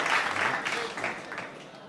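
Applause from the audience at a mushaira in Qatar welcoming the poet Mushtaq Ahmad Mushtaq, moderately loud crowd clapping that tapers off over about two seconds.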